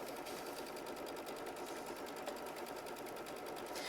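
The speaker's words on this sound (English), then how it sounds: "we're going to sew machine stitch step 1 directly onto our project" An embroidery sewing machine with a 90/14 needle stitching onto a hooped project, a steady fast rhythmic whirring and needle chatter, close and even throughout with no talk.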